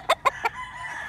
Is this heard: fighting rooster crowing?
yes